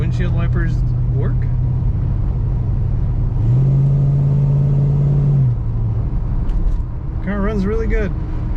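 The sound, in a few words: 1968 Plymouth GTX driving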